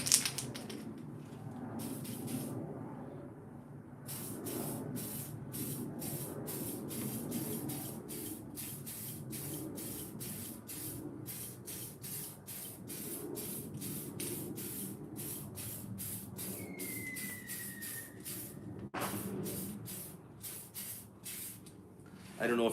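Spray gun applying the first coat of paint to a 1969 Ford Transit Supervan outdoors, a steady close hiss broken by rapid pulsing bursts that run on for many seconds.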